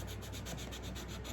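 Quick, rhythmic rubbing strokes of sandpaper across painted wood, about eight passes in a steady back-and-forth, close and fairly quiet.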